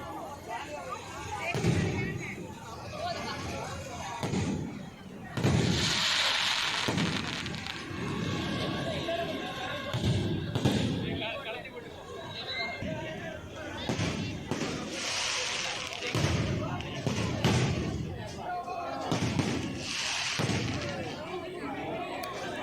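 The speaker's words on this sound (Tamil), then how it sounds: "அது வெடி பார்த்துட்டு ஒரு அரை மணி நேரம் போல் இந்த வெடி வெடிக்கும்." Firecrackers go off at a Kudankulam temple festival in repeated sharp bangs and crackling volleys, fairly loud but not close, mixed with crowd noise and people talking.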